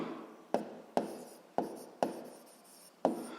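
A pen scratches out a physics equation for a seventh-grade exercise, five or six short, crisp strokes on paper at fairly even intervals, quiet and close.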